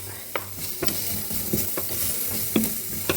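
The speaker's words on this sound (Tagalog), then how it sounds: "Hindi na ako naglagay ng ng mantika. Wala. No need na. Ginisang walang mantika." Onions sauté in a dry pan with no oil, giving a soft continuous sizzle with a handful of sharp stirring scrapes spaced through the short stretch, close and unaccompanied by talk.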